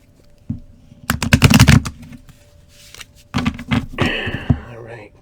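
A deck of cards is riffled in quick crackling bursts, twice, close up, with a soft voice murmuring between shuffles.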